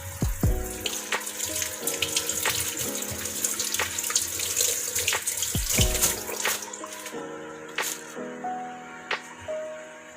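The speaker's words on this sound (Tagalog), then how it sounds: "sunod hugasan natin ay yung lettuce" Lettuce is washed under a running kitchen tap, a steady splashing stream with repeated sharp splatters and clinks as the leaves are handled, close by; the flow cuts off briefly near the end.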